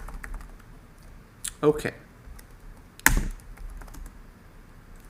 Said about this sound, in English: I'm just gonna type like blah, blah, blah.